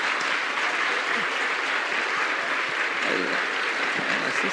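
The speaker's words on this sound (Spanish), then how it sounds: "Ese aplauso salió del alma." Sustained audience applause fills the whole stretch, dense and steady from start to finish with no talk over it.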